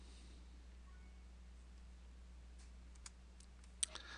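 A computer mouse clicks a few times, faint, sharp and close, near the end, over a quiet electrical hum.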